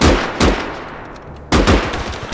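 Gunfire from the World War II video game Call to Arms: Gates of Hell Ostfront, with loud sharp shots near the start and a second burst of rapid cracks about a second and a half later, no voices.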